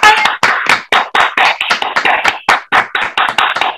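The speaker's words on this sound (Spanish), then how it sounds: "Un aplauso, por favor." Audience applause following a presentation on light pollution, heard as a small group clapping close by in a steady, slightly uneven rhythm of distinct hand claps that continues throughout.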